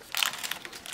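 Faint crinkling of a plastic packet inside a small side-opening box holding a Black Dog 1/72 scale Chevrolet C15 accessories set from the Czech Republic, with a few soft rustling bursts and no talking.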